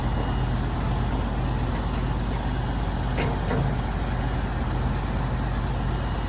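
A ten-wheel truck at a truck racing event gives off a loud, steady engine rumble with broad roaring noise that runs unbroken throughout, close and continuous with no clear pauses.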